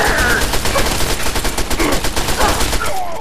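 Enemies firing at the player in Fallout 3: rapid, loud automatic gunfire in quick repeated bursts, dense and continuous through the whole stretch.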